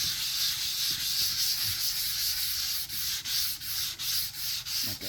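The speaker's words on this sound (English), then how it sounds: "Always feather out your work when you're sanding." Bondo filler on a wood veneer repair being sanded by hand with the grain, a steady, close abrasive rubbing with rhythmic back-and-forth strokes and brief pauses, with no talking.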